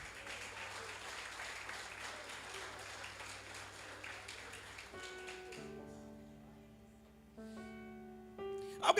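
A church congregation applauds during a sermon, a dense wash of clapping that fades after about five seconds, followed by soft sustained keyboard chords alone.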